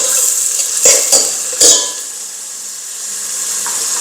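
Chopped onions sizzle steadily in a hot pan for Arabian kuzhi mandi, with a few loud scrapes and clinks of a spoon stirring against the metal over the constant frying hiss.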